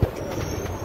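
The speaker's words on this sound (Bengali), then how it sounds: "আমাদের স্টেশন থেকে ছেড়ে দিয়েছে ট্রেন" A passenger train pulling out of 3 Mile Hat station on the Siliguri line, heard as a steady low rolling rumble with a faint rattle, close by and continuous.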